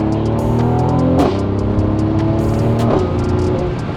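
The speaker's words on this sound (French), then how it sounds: "Grâce à cet échappement actif, le son est vraiment dingue." A Mercedes C43 AMG Estate's V6 with active exhaust drones steadily nearby, rising in pitch between two gear shifts marked by sharp crackling bursts.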